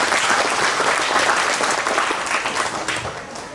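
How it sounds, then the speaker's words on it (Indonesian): Applause for Kampung Jawa Tondano at a religious gathering, a dense, steady clapping crowd filling the space, loud and sustained before easing slightly toward the end. "Sekali lagi aplaus untuk kampung Jawa Tondano"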